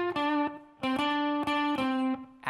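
Electric guitar plays a short phrase from a solo, with unison string bends and quick notes on the 4th string. The tone is sustained and slightly driven, with clear rhythmic attacks, and no one speaks.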